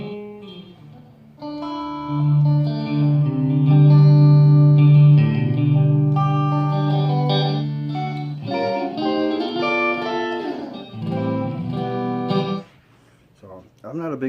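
A 1988 Yamaha REX 50 digital effects unit colours a played instrument with its built-in effects while the amplifier's reverb is switched off, producing sustained, chorused, slightly distorted tones that swell and shift for several seconds before fading out.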